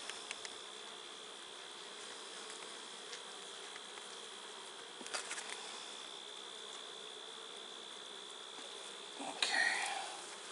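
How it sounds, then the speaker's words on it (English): A steady, faint buzz of many honeybees droning together at an open hive, with a few soft knocks and a louder rustle near the end. "even though there's a lot of bees on here"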